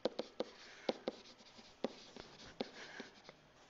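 Pen or marker writing an equation by hand, quiet close-up scratches and taps in short irregular strokes.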